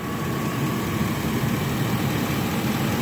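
A 2013 GMC Savana van idles with its engine bay open, giving a steady, even hum and broadband rumble with no change in pace, heard up close and alone.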